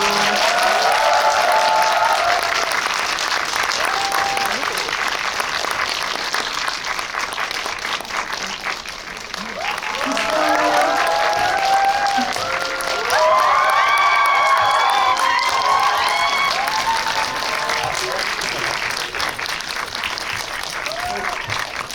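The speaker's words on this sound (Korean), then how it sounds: "큰 박수로 맞이해 주세요." A cinema audience at a Korean film talk event for the movie Phantom greets the director and actors with sustained loud applause, cheering and excited shouts. It swells, dips briefly, then rises again for over twenty seconds.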